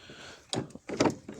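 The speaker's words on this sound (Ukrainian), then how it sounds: "Дверка не відкривається." Volkswagen Polo 1.4 automatic car door being tried, producing a couple of short, close mechanical clunks and rattles of the handle and latch, with brief gaps between them.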